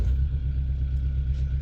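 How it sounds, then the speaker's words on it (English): A narrowboat's diesel engine runs with a steady low rumble and throb right after starting, close by and fairly loud, with no talk over it. "If you'll excuse me, I shall start my engine"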